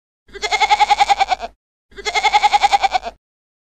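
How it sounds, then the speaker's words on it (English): A goat gives two long, loud bleats close by, each a quavering, rapidly pulsing call lasting over a second, with a brief gap between them. "Goat."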